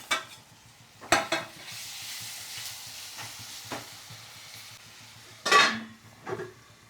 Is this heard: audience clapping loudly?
no